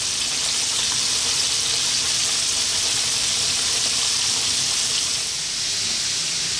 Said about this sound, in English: So while our fish is frying